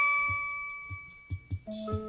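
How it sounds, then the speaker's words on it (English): A bell-like chime on a read-along story record of Glory the Magic Unicorn, side one, rings out over a soft sustained musical backdrop, followed by a few gentle tonal notes. "Don't forget to turn the page every time you hear the chime."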